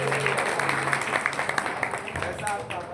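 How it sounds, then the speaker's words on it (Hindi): An audience at a live mind reader show in Delhi applauds a volunteer, a moderate crowd clapping under an announcer's amplified voice, with individual claps standing out. "एक बार इनके लिए जोरदार तालियां हो जाए।"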